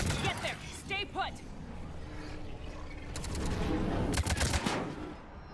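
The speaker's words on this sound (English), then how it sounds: "This is shotgun again, isn't it?" Shotgun fire in Mass Effect 3 comes as a burst of loud, rapid blasts near the end, following voices talking over the battle.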